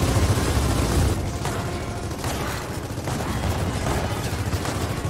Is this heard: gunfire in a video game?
yes